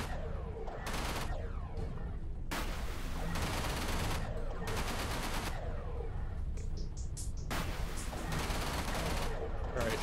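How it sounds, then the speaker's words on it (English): Rapid ship weapon fire in the space combat game Everspace, dense volleys of gunfire in repeated bursts over a constant low engine drone, loud and close throughout. "Alright, seriously, I've been shooting."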